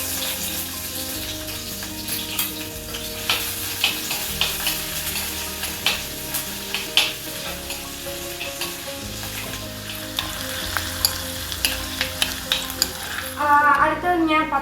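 Ginger and garlic crackle in hot oil in a pan, a loud close sizzle with frequent stirring scrapes throughout and a brief watery burst near the end.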